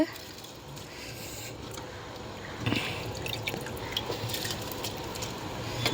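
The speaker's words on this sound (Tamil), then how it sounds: "தண்ணி நல்லா கொதிக்குது." Steady bubbling and popping of water boiling in a pot for rice, a continuous close wet simmer with a brief louder surge partway through.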